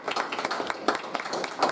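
Applause from the audience at a village board meeting, a dense patter of many hands clapping at a moderate, steady level, heard alone without speech.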